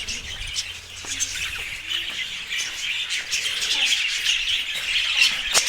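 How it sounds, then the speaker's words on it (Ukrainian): Many farm birds chirp and squawk in a dense, high chatter on a farm in Denmark, with occasional louder calls standing out against a steady background. "Тут такі пташки."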